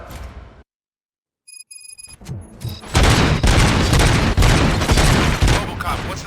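Gunfire in RoboCop: Rogue City: after a silent pause and a ringing tone, loud rapid bursts of shots and booms erupt and continue steadily to the end.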